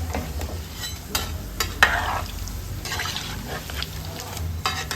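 Veg kaima balls for kofta curry frying in oil as they are turned in the pan, a steady crackling sizzle broken by several utensil scrapes and light knocks, no talking.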